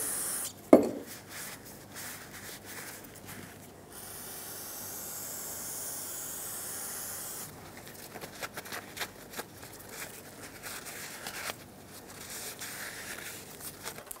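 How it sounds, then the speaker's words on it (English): Brake parts cleaner sprayed onto a Toyota 4Runner wheel hub to degrease it: a steady aerosol hiss lasting several seconds, followed by scattered dripping and handling clatter, with no talking. "Degrease it with brake parts cleaner."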